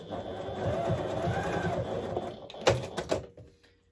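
Sewing machine running steadily while putting securing stitches into the elastic of a handmade slipper, a close, continuous mechanical whir that ends in a few clunks and then stops.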